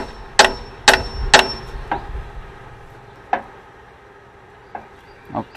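Metal tools tighten parts back onto an engine after a belt is refitted: three sharp clanks in quick succession, then scattered fainter knocks and taps, close and without speech.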